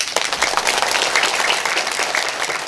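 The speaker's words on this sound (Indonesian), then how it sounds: "Tepuk tangan dulu." Audience applause at a religious gathering commemorating the 50th haul of TGH. Mustajab, a dense, continuous patter of many hands clapping at once, fairly loud and even, with no talk over it.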